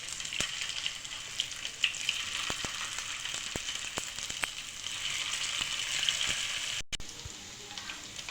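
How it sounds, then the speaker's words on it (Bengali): Prawn pakoras deep frying in hot oil, a steady bright sizzle and crackle with occasional pops and light clicks of a utensil, close and continuous with no talking. "বাকি পকোড়াগুলো আমি একইভাবে ভেজে নিচ্ছি।"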